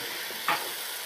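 A paste of ginger, garlic and green chilli fries in a pan as a soft, even sizzle, broken midway by a single brief scrape of a stirring spoon.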